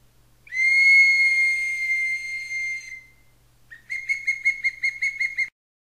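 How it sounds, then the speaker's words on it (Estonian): A large birch-wood whistle blown in one long, steady, mellow tone of about two and a half seconds, then after a short pause a run of quick, evenly spaced toots, loud and close with no talk. "See on suur vile. See on kõige parem lastele, kuna ta teeb mõnusat mahedat häält"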